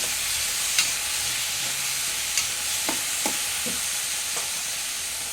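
Chopped tomatoes for a chutney sautéed in a pan, a steady sizzle broken by a few scraping stirs of a spoon, close and continuous with no talking.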